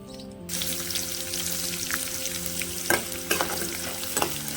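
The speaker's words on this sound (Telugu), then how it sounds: "ఆయిల్ వేడయ్యాక ఒక 4 పచ్చిమిర్చి యాడ్ చేసుకున్నానండి" Four green chillies sizzling in hot oil for lemon pulihora, a steady bright frying hiss that starts abruptly after a brief quiet and carries a few sharper crackles and spatters near the end.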